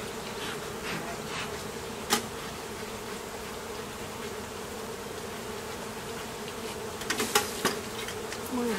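Honey bees buzz steadily around an 8-frame plastic hive, a continuous droning hum throughout with a few sharper knocks and clicks near the end, no voices.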